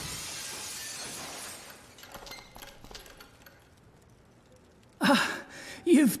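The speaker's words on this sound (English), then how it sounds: "let's cross our fingers that the seat cover absorbs the noise of the breaking glass" Glass shattering in the Dead Synchronicity video game, a brief bright smash followed by a second crash about a second later, with a faint breathy voice and dull scuffs earlier.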